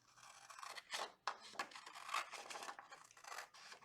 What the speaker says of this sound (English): So I'm going to go ahead and cut that out.